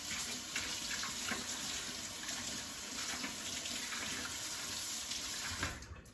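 Tap water runs steadily into a sink as a pancake pan is rinsed, a continuous close splashing hiss that barely changes and then tapers off at the end, with no talk.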